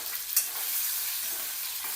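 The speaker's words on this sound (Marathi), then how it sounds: "अंडे छान फ्राय करायचे." Whole eggs fry with turmeric and salt in a kadhai, giving a close, continuous sizzle with a brief stirring scrape near the start.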